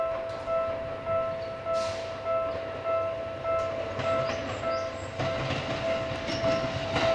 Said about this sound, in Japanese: まもなく1番ホームに電車が参ります。